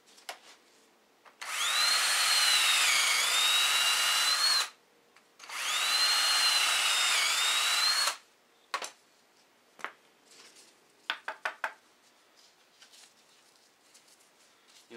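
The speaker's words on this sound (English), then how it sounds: "You'll notice that the drill will never actually make a hole like you want" A power drill whines loudly in two long bursts of several seconds each while boring holes in replacement snowblower paddles, followed by scattered sharp knocks and brief clattering.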